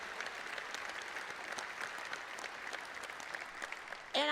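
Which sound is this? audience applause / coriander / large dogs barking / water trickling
audience applause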